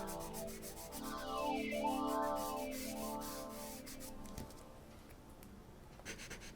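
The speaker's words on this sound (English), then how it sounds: "You can also use the eraser to smudge, so feel free to kind of smudge and blend in your values with the eraser itself." An eraser rubs and smudges a chalk drawing on paper, making soft, close, continuous scrubbing strokes over a faint tonal background.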